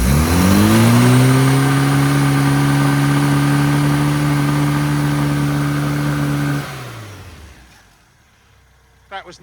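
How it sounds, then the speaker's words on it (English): A Stage 1 998 Mini engine, warmed up and waiting to be tuned, revved close to full throttle: a loud steady roar held for several seconds that then drops away to a quiet idle, ending with a brief clunk. "Let's have a rev."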